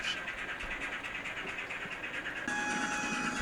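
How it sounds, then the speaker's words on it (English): An Accurascale 57xx model locomotive in BR black runs on a layout with full sound fitted, its steady mechanical chuffing and rail rumble close and continuous with no voices. "letting me run this locomotive, the BR black one, on his layout"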